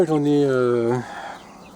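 A single close, throaty cluck-like call from a farm-raised meat chicken, drawn out for about a second and then fading.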